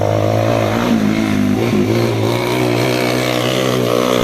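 Loud off-road motorcycle engines roar and rev steadily at a dirt bike race, a continuous droning buzz with slight pitch shifts, close by and with no talking.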